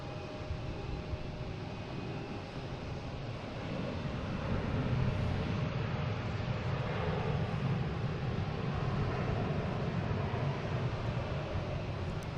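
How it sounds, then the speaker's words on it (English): An Iberia Airbus A330-200 arriving at Boston Logan from Madrid gives a steady, broad jet roar that swells slightly midway and holds at moderate distance, with no voices. "There's Iberia, the A330. 200 coming in from Madrid"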